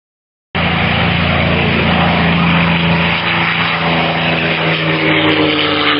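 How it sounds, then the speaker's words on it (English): A P-51D Mustang propeller fighter coming in to land at an air show, its loud, steady piston-engine drone filling the air without a break from just after the start to the end, with no voices. "P-51D Mustang."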